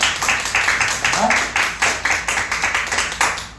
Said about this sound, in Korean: 우리 영광의 박수, 감사의 박수 한번 할까요?